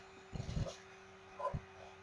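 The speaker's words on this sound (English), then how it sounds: "don't even think about barking" A dog barks indoors with two short, quiet bursts of barking or yipping, about a second apart, under a steady electrical hum.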